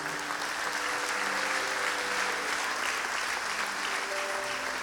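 An evangelical church congregation applauds during a morning service, a steady, dense wash of clapping that holds at an even level throughout, with no voices standing out.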